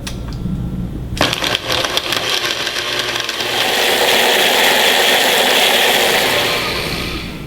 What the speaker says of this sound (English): Let's get the machine turned on and mix all of these ingredients together.